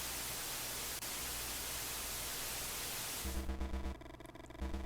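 Car radio static in the video game Bahnsen Knights: a steady, loud hiss of white noise that then breaks into choppy, tuning-like fragments.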